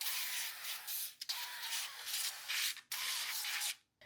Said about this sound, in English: I'm just gonna go in with some avocado oil spray